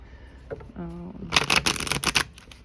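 Tarot cards being shuffled, a run of quick papery riffles and flutters that grows louder after a short stretch of quiet, with a brief voiced murmur near the start.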